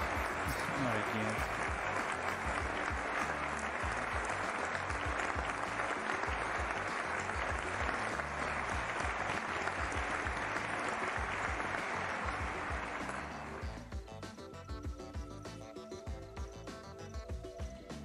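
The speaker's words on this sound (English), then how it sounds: "An applause for the team and for Futura Light." A crowd applauds a team in sustained, dense clapping that holds for about thirteen seconds and then thins into scattered claps, with voices mixed in.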